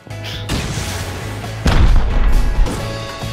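HV rockets detonate in Rust, heavy booming blasts with deep rumbling thuds, one large impact followed by a second close explosion over a steady background drone.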